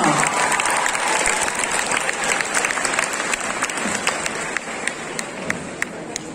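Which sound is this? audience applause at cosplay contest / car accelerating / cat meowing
audience applause at cosplay contest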